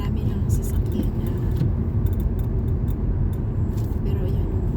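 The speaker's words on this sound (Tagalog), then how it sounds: "Marami lang sasakyan na." Steady roar of many cars moving along a busy main road, likely on slushy wet pavement after snow, a continuous dense low rumble with passing vehicles blending together throughout.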